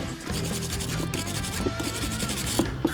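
Rust is being rubbed off a metal surface by hand, a continuous close scratchy rasping with a few sharper scrapes near the end, and no one speaking.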